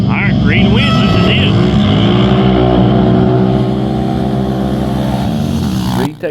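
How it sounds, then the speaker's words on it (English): A Can-Am 1000 Renegade races at a county fair, its engine roaring loud and close at a sustained high pitch, revving and shifting, with a voice over the noise. "Reed takes home first place in his Can-Am 1000 Renegade."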